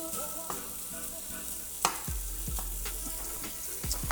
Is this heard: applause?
no